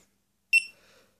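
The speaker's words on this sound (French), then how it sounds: "Vous pouvez enlever le son des bips qui fait tout le temps" A single sharp electronic beep from a GoPro Hero3+ Black Edition camera, bright and high-pitched, rings out once after silence and quickly fades with a short tail.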